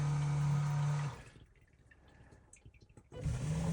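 A toilet flushing without water in the bowl, cycling through a dry flush: a loud steady rush at first, then a quieter stretch of faint trickles and mechanical ticks before the loud rush returns.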